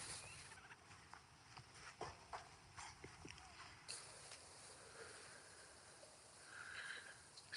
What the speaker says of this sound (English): let me see if I can get my turkey